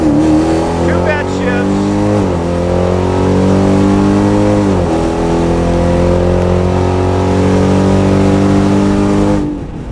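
A drag racing car launches down the strip at a bracket and 11.50 index event, its engine revving hard and climbing in pitch through several gear shifts, loud and continuous, then cutting off abruptly at the end.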